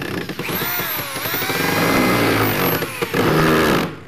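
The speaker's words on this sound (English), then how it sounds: "I am probably the worst person to drill." A power drill drives 3-inch screws into wood while a storage shelf is being built, whining loudly in several bursts that rise in pitch and then bog down, with short gaps between runs.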